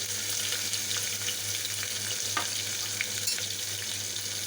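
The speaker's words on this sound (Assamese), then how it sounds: "এতিয়া আমি পিঁয়াজখিনি দি দিম।" Onions sizzle in a pan of hot oil with bay leaves and dried and green chillies, a steady, even, close frying hiss with faint crackles and no talk.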